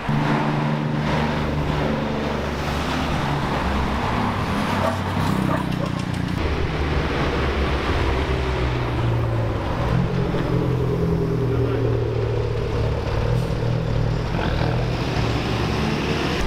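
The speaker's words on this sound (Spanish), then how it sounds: "Es increíble lo que suenan los Abarth. Se escucha el turbo a través del escape." A loud Abarth car engine and exhaust drone continuously through a dual exhaust, with rising and falling revs and a turbo whine audible through the exhaust, close by.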